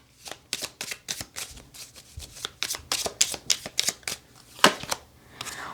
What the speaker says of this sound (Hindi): ये थोड़ा बड़ा डेक है तो इसे शफल करने में एक्चुअली मैं इसको 2 भागों में बांट लेती हूँ, आसानी से शफल हो जाएगा